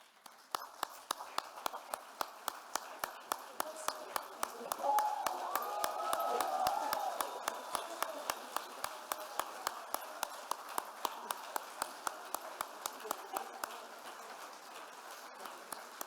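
A commencement audience applauds Dean's List members of the management class of 2024: sparse, evenly spaced claps carry on for a long stretch, fairly faint and distant, with a murmur of voices swelling briefly in the middle.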